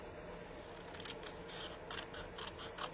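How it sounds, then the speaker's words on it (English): Scissors cut through paper for a handmade card in a quiet room, a series of soft, crisp snips that come in short bursts and grow slightly more frequent toward the end. "I'm going to cut those"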